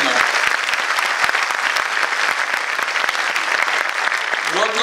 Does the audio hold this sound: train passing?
no